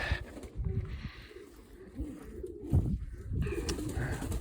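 Pigeons coo in a loft, low murmuring calls rising and falling close by over a rustling, shuffling background, with no talk.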